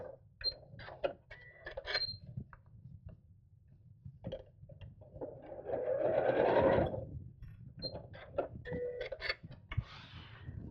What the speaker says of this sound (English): And we'll just sew across the top in the seam allowance, just to hold those in place.